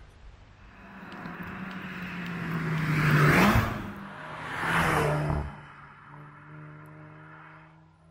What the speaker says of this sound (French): Nous voici en balade avec la Golf GTI Performance sur les belles routes de la vallée de Chevreuse.